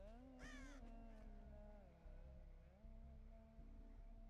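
A crow caws in Dead by Daylight, its harsh calls rising near the start over a steady low game-ambience drone that runs through the whole stretch.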